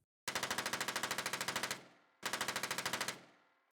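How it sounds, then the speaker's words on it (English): Two loud bursts of rapid automatic gunfire ring out, each rattling for a second or more before dying away in a trailing echo. "Gunshots suddenly echoed through the air."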